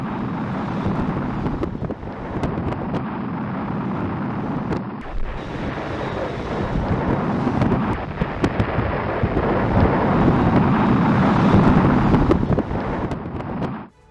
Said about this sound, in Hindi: ये देखिए आप, ज़िरकॉन मिसाइल के जरिए परीक्षण किया गया।